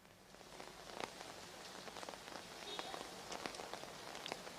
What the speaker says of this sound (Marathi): इकडचं देखील आपण वातावरण बघू शकतो कशा पद्धतीने पाऊस जो आहे तो पडताना दिसून येत आहे